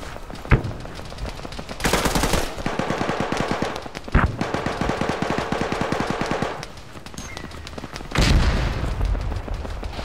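Automatic gunfire in ArmA 3, a sharp single shot, then long rapid bursts of rhythmic fire broken by heavy loud blasts, close and loud with no talk.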